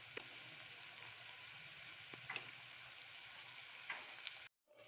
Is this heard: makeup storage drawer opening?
no